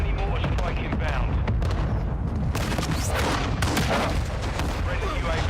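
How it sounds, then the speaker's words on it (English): Mortar strike explosions in Call of Duty Warzone battle royale, a dense, loud barrage of overlapping booms and blasts rumbling continuously, with a faint voice in the mix. "Friendly mortar strike inbound"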